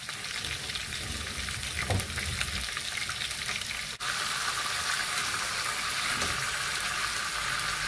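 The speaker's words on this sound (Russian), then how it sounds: "мясо с костями. С двух сторон обжарим." Bone-in meat sizzles and fries in a pan, a steady, loud crackling hiss that runs unbroken, with a brief clatter near the middle.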